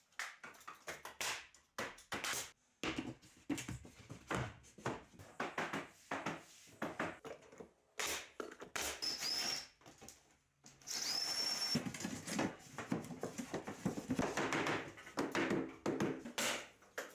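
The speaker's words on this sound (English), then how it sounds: "Tapping tongue-and-groove floor planks together tightly closes seams" Tongue-and-groove pine planks are tapped together on a cabin ceiling in subzero conditions. Irregular wooden knocks come in clusters, fairly quiet and close, with a stretch of busier clatter and a faint whine later on.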